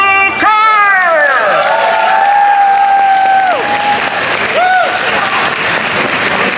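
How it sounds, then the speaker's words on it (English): Audience applause and cheering for a classic Tetris player at a gaming expo tournament, loud and continuous clapping under a prominent announcer voice with sweeping electronic tones. "Please give a round of applause for Alex Kitaru Kerr!"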